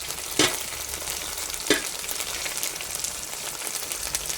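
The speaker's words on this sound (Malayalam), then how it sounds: "വെളുത്തുള്ളി ഇത് നല്ല ഫ്രൈ ആയിന്." Garlic frying in oil in a pan while biryani is cooked: a steady, close hiss of sizzling with a couple of brief sharper crackles or stirring clicks near the start, and no talking.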